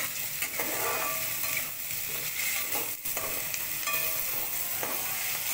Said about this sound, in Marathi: कमी गॅसवर हा कांदा भाजून परतून घ्यायचा आपल्याला.